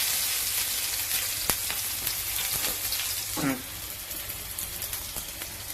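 Garlic frying in plenty of hot oil for fish fry, giving a loud, steady crackling sizzle close by, with a sharp click and a brief clatter partway through and no voices.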